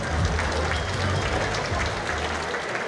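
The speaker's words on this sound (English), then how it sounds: "a big round of applause for both these young men" A boxing crowd applauds both fighters after the bout in Birmingham, a dense, steady wash of clapping that is loud and sustained throughout, with a low murmur of voices underneath.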